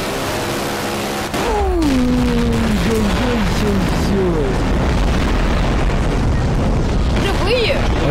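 A bomb explosion in Garry's Mod erupts with a loud, sudden boom, then a sustained heavy rumble and roar that persists for several seconds while players talk over it.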